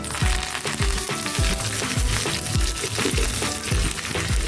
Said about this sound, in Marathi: बघा मी एक पळीवर तेल घालून घेते छोटी हे बघा एक चमचा मोहरी घालते मी जिरे घालते पत्ता घालतो थोडासा